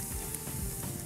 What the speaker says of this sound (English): Hear that lovely sizzle?